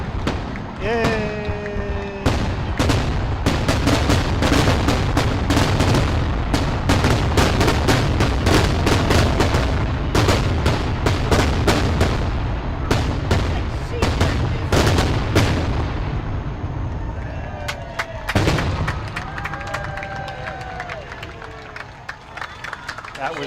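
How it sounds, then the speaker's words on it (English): A fireworks show's grand finale at McKeesport's International Village: a dense, loud barrage of booming explosions and crackling bursts rolls on continuously, with crowd noise and whistling shells underneath, easing slightly near the end. "That was an excellent fireworks show."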